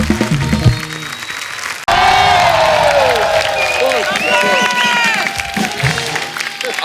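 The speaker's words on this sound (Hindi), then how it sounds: "एक बार जोरदार तालियां हमारे सब मेहमानों के लिए।" Loud applause from a large TV show studio audience with cheering and whoops, sustained for several seconds after a brief cut at the start.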